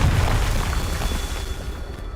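A Confringo fire spell explosion in Hogwarts Legacy, a heavy booming blast with a dense low rumble that stays loud and then tails off over about two seconds.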